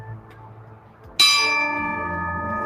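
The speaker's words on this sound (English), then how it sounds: "And we'll just keep tolling this bell" Protesters at an execution vigil toll a large bell once: a sudden, loud metallic strike after a quiet outdoor stretch, its bright ringing tone then hanging and slowly fading.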